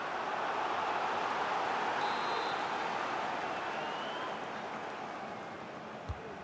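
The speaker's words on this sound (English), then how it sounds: "Well, the crowd are certainly trying to help get their team back into this." A broad, steady roar from a stadium crowd in the football game EA FC 24, a Chelsea versus Tottenham Premier League match, holding loud and even before easing slightly toward the end.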